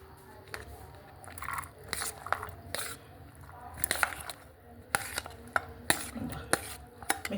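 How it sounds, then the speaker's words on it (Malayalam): Yogurt is mixed into a chicken biryani mixture in a pot: irregular wet squelches and spoon clicks against the vessel, close and fairly quiet, growing busier toward the end. "മിക്സ് ചെയ്യാം നല്ലോണം അങ്ങനെ"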